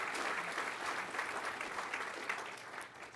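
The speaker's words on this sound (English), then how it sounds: "So a round of applause for our maintainers" A round of applause at an Air Force undergraduate pilot training graduation ceremony, dense crowd clapping honoring aircraft maintainers, steady and moderately loud before tapering slightly at the end.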